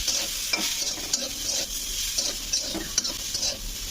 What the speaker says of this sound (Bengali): আলু পেঁয়াজ ভালো করে ভেজে নিয়েছি মশলার সঙ্গে